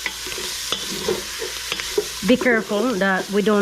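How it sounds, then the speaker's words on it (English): Italian sweet sausage, one pound, browns in a pan with a steady sizzle and intermittent spatula scrapes, close by, while someone talks over it. "Let's brown it about another 3 minutes."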